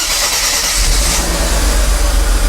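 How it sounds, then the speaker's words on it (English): Mercedes-Benz R129 SL, a 300SL, 320SL or 500SL, starting after a battery change: a brief crank, then the engine catches and settles into a loud, steady idle with a deep low rumble. "we're going to want to try to start the car and make sure everything works properly"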